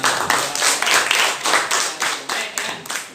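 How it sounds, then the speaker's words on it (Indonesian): A classroom of students claps together in a lively, uneven burst of hand claps, close and fairly loud, lasting a few seconds with no talking over it. "Tepuk tangan untuk kita semua."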